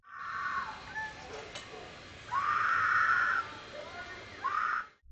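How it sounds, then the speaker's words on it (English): A woman's high, strained screams ring out in a Los Angeles neighborhood, captured at a distance by a doorbell camera, coming in several drawn-out bursts with short quiet gaps between them. "you suddenly hear someone screaming for their life"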